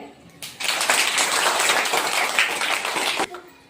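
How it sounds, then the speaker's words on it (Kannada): Children clapping hands together in a classroom, a dense burst of applause lasting about three seconds, close and fairly loud, with a voice speaking just before. "ಸರಿ ಚಪ್ಪಾಳೆ."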